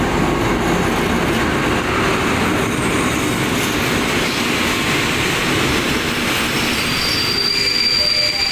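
Diesel local train 446 from Hat Yai to Chumphon, locomotive 4107, of Thailand's SRT rolls into a junction station: a loud, continuous rumble of wheels on rails with high squealing throughout, close by.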